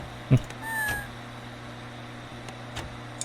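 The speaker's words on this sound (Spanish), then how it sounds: "Maldita sea el gato este." A cat meows once, short and clear, over a steady low electronic hum in a Five Nights at Freddy's fan game, followed by faint clicks.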